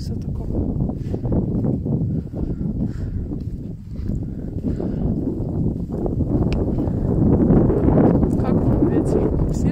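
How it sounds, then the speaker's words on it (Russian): Gusty wind in Mittenwald buffets the microphone with a constant low rumble that swells and eases, growing stronger toward the end. "Как вам ветер? Сильно шумит?"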